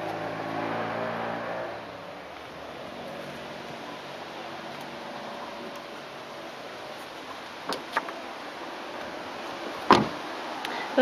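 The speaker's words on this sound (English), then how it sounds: "electric windows in the rear." Rear electric windows on a BMW 3 Series run with a low motor whir for about two seconds. Quiet interior hum follows, then a few sharp clicks and knocks near the end.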